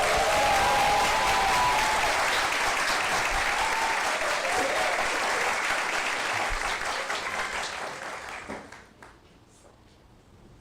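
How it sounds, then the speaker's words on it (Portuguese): Sustained applause from a church congregation during a monthly thanksgiving service rolls on loud and dense for several seconds, then thins and dies away toward the end. "tem que ter assim uma salva de palmas por essa espera"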